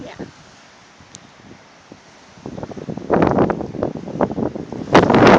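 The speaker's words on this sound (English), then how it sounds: "Well, there's the wind for you." Strong gusty wind on a windy day in Arizona buffets the microphone, starting faint and rising into loud, irregular bursts of rumbling roar toward the end.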